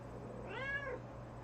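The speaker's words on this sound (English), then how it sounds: "She is meowing at me." A single quiet domestic cat meow rises and falls over about half a second, heard faintly against a steady low hum.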